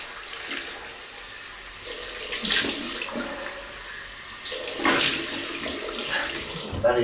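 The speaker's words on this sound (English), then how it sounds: "Right, cold water rinse." A bathroom tap runs cold water for a rinse after shaving, a steady close splashing stream that swells louder as hands move under the flow.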